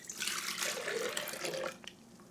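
Warm water is poured from a tap onto yeast for bread dough, a short splashing stream that swells quickly, holds briefly and tapers off into a few drips.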